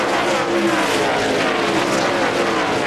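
NASCAR stock cars at the 2001 Pennzoil Freedom 400 roar steadily, a loud, continuous engine drone with a faint rising whine from passing cars and no break.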